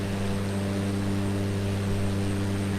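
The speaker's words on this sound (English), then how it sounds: "actual airplane sounds and stuff like that is alright." Steady airplane cabin drone from a propeller aircraft, a continuous engine hum with strong low tonal bands and broadband hiss, loud and unchanging throughout with no talk.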